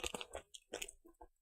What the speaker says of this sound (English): I have these things called popcorners. The crunchy and wholesome popped corn snack.